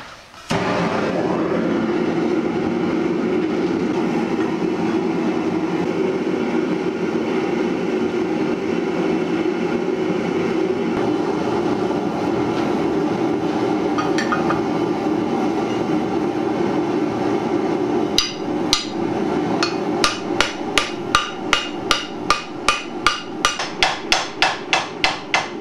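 Metal being hammered into a rose arch on a sturdy table used as a substitute anvil: a steady background hum for most of the stretch, then a rapid run of sharp, loud, regular ringing blows near the end.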